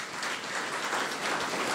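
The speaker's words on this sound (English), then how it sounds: "Let's give them a round of applause" Ceremony attendees at a cabinet ministers' swearing-in give a short, even round of applause, many hands clapping together at moderate volume with no talk over it.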